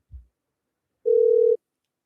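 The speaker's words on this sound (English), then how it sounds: "I'm getting a call." A single steady electronic tone from an incoming phone call rings once for about half a second, clear and alone after a brief low thump.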